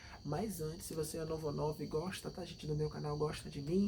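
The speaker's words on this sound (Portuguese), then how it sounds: "tem uns grilos cantando" Crickets chirp steadily in rainy weather, a faint high-pitched trill running beneath a person talking close to the microphone throughout.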